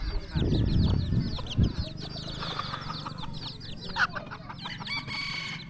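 A decoy rooster, used to lure wild junglefowl, crows and clucks nearby in several bursts, with chirping birds and other fowl calling in the background.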